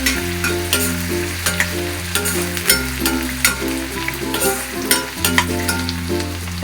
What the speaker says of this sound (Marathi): कांदा थोडा चांगला परतून घेऊया। गॅस फास्टच ठेवलाय मी।